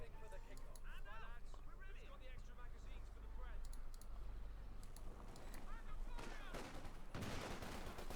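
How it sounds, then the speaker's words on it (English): Distant gunfire in a Company of Heroes 2 battle patters faintly as scattered shots and short bursts under steady talk, with a few sharper cracks near the end. "Folks moving ahead, they're getting sniped, getting shot at."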